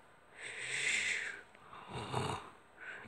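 A person snoring quietly nearby, with two drawn-out rasping inhales and the start of a third in a slow, regular rhythm and no other sound.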